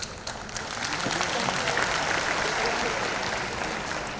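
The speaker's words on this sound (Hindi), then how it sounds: "बोलने के पहले ताली बजा दी आप सबने." Sustained applause from a large crowd, many of them women, at an International Yoga Day event, steady and fairly distant, filling the whole stretch without a break and with no talk over it.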